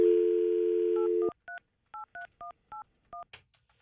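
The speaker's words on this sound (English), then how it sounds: "Let's call." A telephone dial tone on a live morning radio show cuts off, then a quick string of seven or eight touch-tone keypad beeps follows in an even rhythm, loud and clean.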